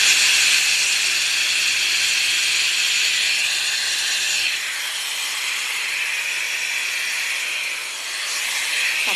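A hair dryer blows steadily on its cold setting while drying hair, a loud continuous airy hiss and whine with slight shifts in tone as it moves.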